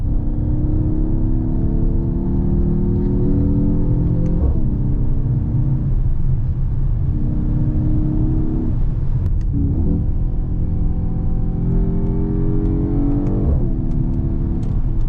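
A Mercedes-AMG GT43 being driven, its engine droning loudly and steadily, climbing in pitch through repeated revs and dropping briefly between gear changes, with constant road rumble inside the cabin.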